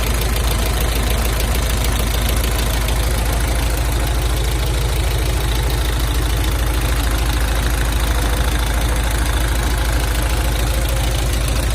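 A Hino FC 6-wheel dump truck from 2002 with a 117 hp diesel engine runs with its engine cover open, a loud, close and steady rattling drone with even knocking throughout.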